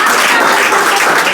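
An audience claps together at a school Diwali prize event, with a dense, loud burst of applause that carries on steadily through the whole moment.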